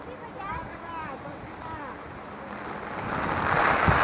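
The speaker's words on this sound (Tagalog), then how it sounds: "Ay, nako, humangin pa." Wind gusts during rain out on a street, building into a louder blustery rush toward the end, while a person talks over it.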